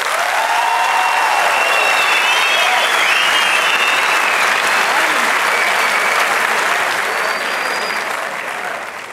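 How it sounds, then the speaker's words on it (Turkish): Loud, sustained clapping from a Turkish talent-show studio audience fills the room for several seconds, with a few whoops and shouts riding on top before it tapers off slightly at the end. "Hayır diyenler alkışlasın."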